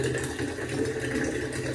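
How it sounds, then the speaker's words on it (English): Water trickles slowly from a sink into a container as a quart is measured out, a steady, even running sound that carries on throughout over a faint mechanical hum. "we're going to put 1 quart of water in there from the world's slowest sink"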